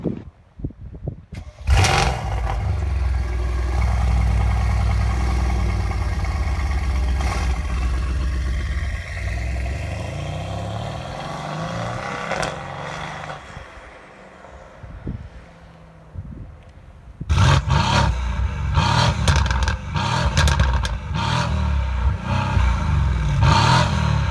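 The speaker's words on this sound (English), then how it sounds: "I'll put an exhaust clip in here so you can hear what it sounds like" A 2019 Mercedes-AMG C63 S V8 starts with a sharp exhaust bark and settles into a deep, burbling idle, then revs hard in several loud, crackling blips.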